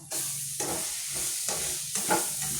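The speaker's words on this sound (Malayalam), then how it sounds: "അത് വഴറ്റി ആയി വരുന്നു." Coriander, chilli and turmeric powders sautéing in a pan, a steady soft sizzle and hiss with a few brief clinks of stirring, close and alone.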